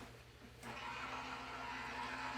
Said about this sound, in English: then I'll run that through my die cutting machine.